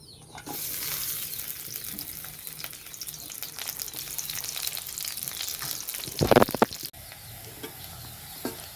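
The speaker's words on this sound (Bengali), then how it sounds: "রসুন পেঁয়াজগুলো লাল লাল করে ভাজা হয়ে গেছে" Garlic, onion and green chilies frying in oil in a wok give a steady, close sizzle, broken near the end by a brief clatter of stirring before the sizzle carries on.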